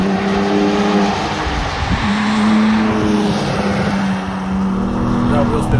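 BMW M4 with manual gearbox held in second, engine note rising and steady while driving, loud cabin drone with road noise and people talking over it.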